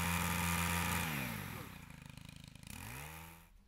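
A pole saw power head's small two-stroke engine runs loud and close, revving high, then dropping to a rough idle before rising again and cutting off near the end.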